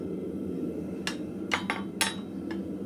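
A blacksmith strikes hot steel on a hot cut with a hammer, giving five sharp metallic blows at uneven intervals over a steady low forge roar.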